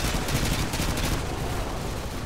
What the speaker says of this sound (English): Just shooting general direction. Just, you know, shoot